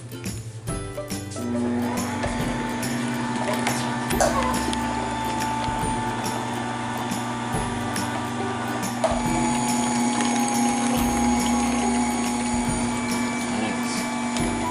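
An electric juicer runs steadily, juicing strawberries for homemade strawberry lemonade, a loud continuous motor whine with a strong low hum that starts after a brief moment and holds throughout, with faint children's voices now and then.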